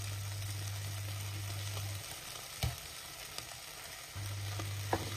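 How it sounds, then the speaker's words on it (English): Chicken wings stir-fried in a dry pan with no oil over high heat give a steady, moderate sizzle, broken by a few sharp spatula knocks and scrapes. No one speaks. "Stir fast to color the wings."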